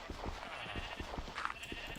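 Sheep in Minecraft bleat in a short run of faint, close pixelated baas over quiet game background.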